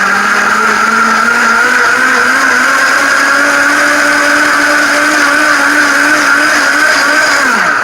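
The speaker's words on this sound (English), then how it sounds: "This is a real blender, dude." A Vitamix blender runs at high speed with a steady, loud motor whine and rushing water churning inside, holding pitch before winding down sharply at the end.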